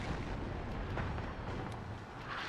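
In the WARNO war game, artillery rumbles as a continuous, loud low roar of overlapping blasts with a few sharper cracks scattered through it.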